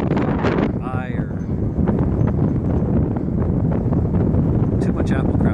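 Steady wind roars and buffets the microphone at an outdoor RC flying field on a windy day, loud and continuous throughout, with people talking nearby.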